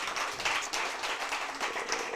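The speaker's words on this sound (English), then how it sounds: "Give them a round of applause, right?" An audience gives a round of applause at a chat event with an entrepreneur, producing a steady, fairly dense patter of clapping that runs evenly throughout at moderate level.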